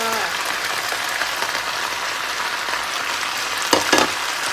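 Shrimp hit a hot pan of vegetables and stir-fry with a dense, steady sizzle, loud and close, with a couple of sharp clatters near the end and no talking.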